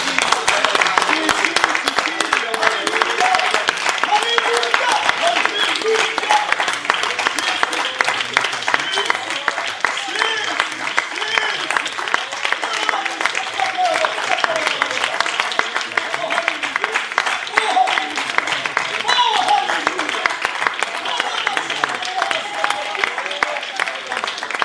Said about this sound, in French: Encore une fois, applaudissons-le.